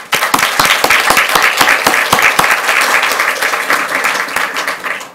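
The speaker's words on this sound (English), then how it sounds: "please, let's give her a round of applause." A crowd at a school board meeting applauding steadily, dense clapping that stays strong throughout before starting to fade at the end.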